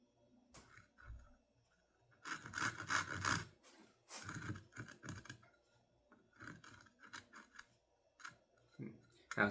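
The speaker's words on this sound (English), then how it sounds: "take my chisel and pare down to the knife lines that I have created" A chisel pares wood for half-blind dovetails in close, scraping bursts of rasping and shaving strokes, some longer and some short, separated by brief quiet moments, with faint speech in places.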